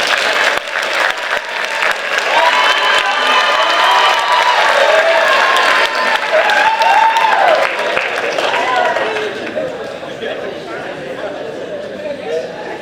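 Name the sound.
audience applause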